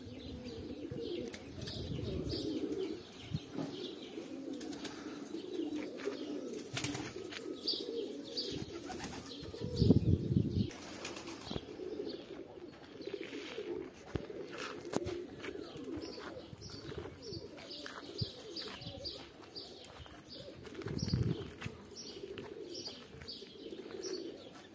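Homing pigeons cooing in soft repeated low calls, with chirps and bursts of wing flapping from birds taking off around a loft, moderately close and continuous with no talking.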